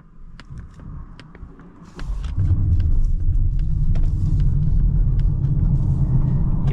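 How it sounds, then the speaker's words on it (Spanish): A Polestar 2 electric car, front-wheel drive, accelerates from inside the cabin. A low rumble swells suddenly and holds steady and loud, with faint ticking clicks above it and no talking. "Vamos a hacer aquí una pequeña aceleración para que veáis,"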